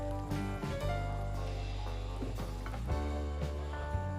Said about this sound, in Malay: Masukkan air asam jawa, kacau sebati.